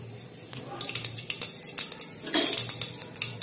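Cumin and mustard seeds hit hot oil in a pressure cooker, giving a light sizzle with quick crackling pops and metal utensil clinks, scattered irregularly and growing busier toward the end.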